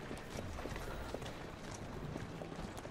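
Horse hooves in the video game Assassin's Creed Syndicate clatter in a dense, continuous gallop under a wash of broadband game noise, without speech.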